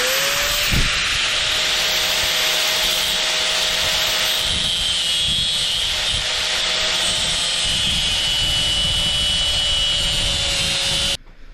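A cutoff wheel grinds through steel bolts for a solar panel mount on a camper van, a loud, continuous high-pitched whine with a steady tone that holds for about eleven seconds and then cuts off abruptly.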